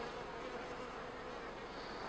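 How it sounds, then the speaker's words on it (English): Honeybees buzz in a steady, dense drone around a queen cage being cleaned of clinging workers, continuous and close with no voices. "Here's another way you can get to clean the bees off of the cage."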